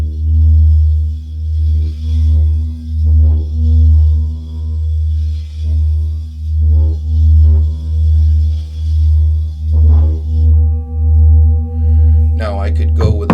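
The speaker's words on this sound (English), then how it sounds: "what's nice about this bowl is you hear a balance of all the tones really nicely." An antique singing bowl rung with a mallet gives off a steady, layered hum that settles onto a deep low tone and sustains throughout, with a voice talking over it and a brighter strike near the end.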